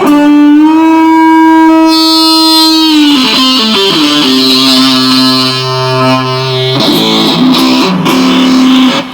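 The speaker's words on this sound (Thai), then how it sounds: "ตอนนี้เป็นเสียงของเมเซนโซแล้ว" An electric guitar played through a Metal Zone distortion pedal sounds loud, thick, sustained distorted notes and chords that shift pitch every few seconds, with no talking.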